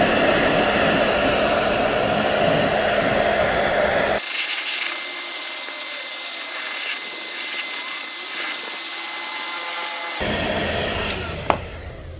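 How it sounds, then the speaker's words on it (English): A hair dryer blows on paint protection film over the headlight of a 2023 Toyota GR86 Premium, a loud continuous rushing hiss whose tone changes partway through as the airflow shifts, then returns to the fuller roar. "So I'm gonna run a hair dryer with a dry microfiber towel and get these corners down."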